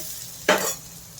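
Ginger garlic paste hits a hot pan for poha, giving a single brief burst of sizzling and stirring close by, then a faint fizz.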